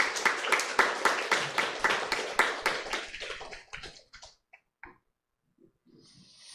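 A church congregation applauds to welcome a visiting missionary speaker at a worship service, a rhythmic clapping burst near at hand that thins into a few scattered claps and then falls silent.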